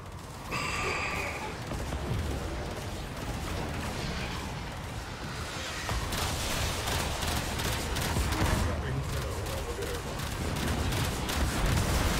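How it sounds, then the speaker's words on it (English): Cannon batteries firing on a ship in the Warframe video game: a dense, continuous barrage of booming blasts and mechanical clatter layered over game noise for the whole stretch, with no pauses. "cannon batteries are gonna blow the ship apart"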